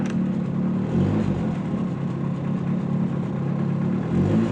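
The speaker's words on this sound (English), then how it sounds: "Does the blower work?" Heater blower fan inside a Lotus Excel running steadily, a constant broad whooshing hum with a low rumble beneath, close and unbroken throughout.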